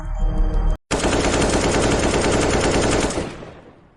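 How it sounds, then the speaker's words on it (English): Automatic gunfire rips through an action drama scene in a loud, dense, continuous burst lasting about three seconds after a short gap, then fades out. "Bullets create dense craters. Rifles can't pierce through."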